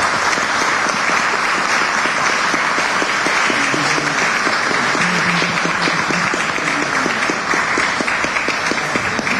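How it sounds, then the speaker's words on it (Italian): Applause fills a town council session in Bra, a dense, steady wash of many hands clapping in a hall, sustained and even for the whole stretch with no talk over it. "un applauso"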